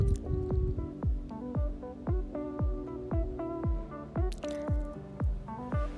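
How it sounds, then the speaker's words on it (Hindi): Kokum syrup poured into a glass, heard as a rapid series of about a dozen close, wet drips and plops in an uneven rhythm, with no talking. "वो सिरप को एक ग्लास में आप डालिए।"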